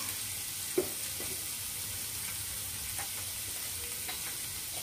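Prawn curry masala sautés in a pan with cumin, Kashmiri chilli and turmeric powders, a steady soft sizzle with a few light stirring scrapes and one sharp clink early on.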